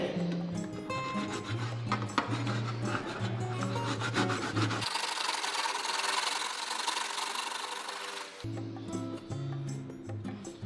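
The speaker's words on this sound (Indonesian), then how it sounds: "Nah, ini langsung kita parut aja" Kencur, aromatic ginger root, scraped on a grater in a kitchen, a continuous dry rasping rub that runs steadily for several seconds, close and fairly loud, with music playing before and after.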